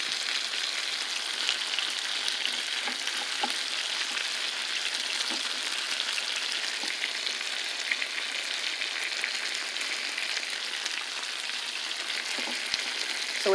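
Buffalo wings frying in a small pan produce a steady, dense close-up sizzle that crackles evenly throughout without pause or voices.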